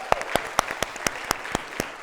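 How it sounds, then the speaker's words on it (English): Applause at an event, heard as a sparse, evenly spaced series of about ten crisp hand claps, close and clear over a faint crowd background. "give themselves a round of applause for being here"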